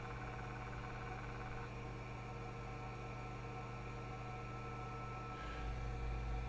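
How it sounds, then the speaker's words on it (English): Hard disk in an Apple PowerBook 140 laptop spinning up, a steady low whirring hum with faint mechanical texture, a small shift in tone near the end, no talking. "Oh, hard disk has spun up."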